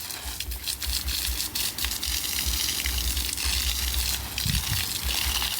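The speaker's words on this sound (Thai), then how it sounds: "มาช่วยกันรดน้ำต้นไม้ค่ะ" Water gushes steadily from a hose or tap while plants are being watered, a continuous close hiss and splash with slight fluctuations and no talking.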